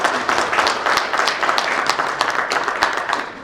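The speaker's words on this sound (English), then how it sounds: "A round of applause, ladies and gentlemen" An audience at an engineering, iron and steel industry report event applauds steadily, a dense, loud and sustained patter of many hands that continues evenly throughout.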